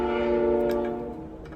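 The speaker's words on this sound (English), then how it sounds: "There's a train outside." A train passes outside a shed, its horn sounding as a loud, sustained chord that slowly fades, with faint rattling in the background.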